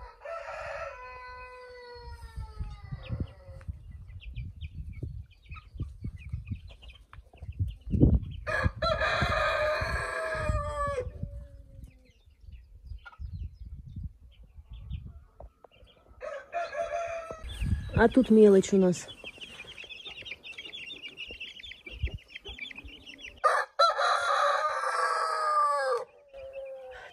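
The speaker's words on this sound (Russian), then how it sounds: "Петухи орут, прям просто ужас." Roosters crow repeatedly, several loud drawn-out calls spaced across the scene, with a person speaking briefly and farmyard clucking in between.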